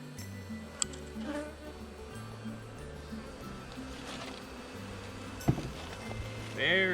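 Honeybees in an overpacked hive hum in a steady, close drone that continues throughout, with a few brief knocks and a sharper buzzing flare near the end.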